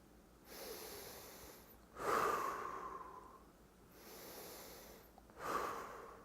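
Slow, deliberate breathing close to the microphone, two full cycles of soft drawn-in breaths followed by louder, airy exhales, quiet and unhurried with no talking.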